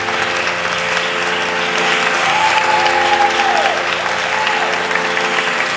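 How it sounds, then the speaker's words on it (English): Audience applause for veena artists at a Cleveland Aradhana festival concert, a dense steady clapping from a large crowd that fills the hall continuously with faint voices mixed in. "give every single artist here a round of applause"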